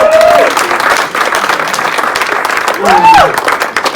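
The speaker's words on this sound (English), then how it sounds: "Thank you, you can clap." An audience claps at a comedy club show, a dense, steady burst of applause with a brief whistle or cheer rising out of it near the end.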